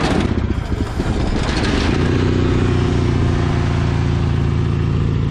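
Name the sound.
Cub Cadet 782 garden tractor engine starting up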